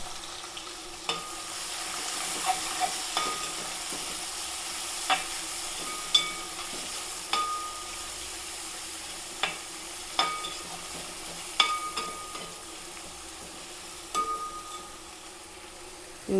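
Three large sliced onions frying in a pan for fish molee, a soft continuous sizzle broken by sparse sharp clicks and scrapes of a spoon, fairly quiet and without speech.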